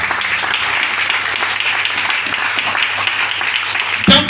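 A church congregation applauding during a worship service, a continuous dense wash of clapping from many hands throughout, with faint voices mixed in and a brief louder burst at the very end.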